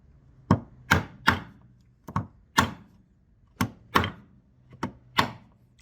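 Sharp chisel strikes on a live edge oak slab while cutting a bow tie inlay pocket, about ten distinct close woody thunks at an uneven pace with brief pauses between.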